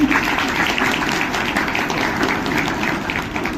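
Steady crowd applause at a school maths and science event, with dense clapping sustained throughout, fairly loud and close, with a faint murmur of voices beneath.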